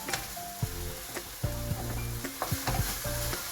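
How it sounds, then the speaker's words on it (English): Chicken, cashews and vegetables are stir-fried in a pan, with a loud continuous sizzle broken by repeated clanks of a utensil scraping and tossing the food, close and with no talk. "Throw it in with our veggies. Turn that over."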